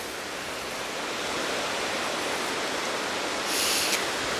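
Hraunfossar waterfalls in Iceland, countless streams pouring out of a lava field over about a kilometre, make a steady broad rushing roar that swells slightly toward the end.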